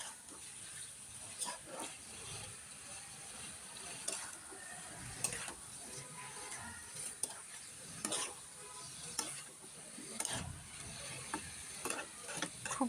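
Chicken with red chilli paste and spices fries in oil for a Bengali curry, a soft steady sizzle with regular spoon taps and scrapes against the pan, quiet and close, no talking.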